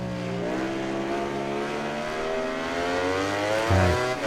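A racing motorcycle in MotoGP 19 at Brno, with the engine note dropping in pitch as the bike brakes hard into a corner, then a brief deeper downshift burst near the end. The sound is loud, close and unbroken.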